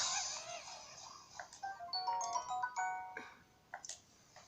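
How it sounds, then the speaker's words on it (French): A mobile phone ringtone going off, a melodic run of bright electronic tones rising and falling over a faint background, with a few sharp clicks near the end. "J'ai oublié de couper mon téléphone."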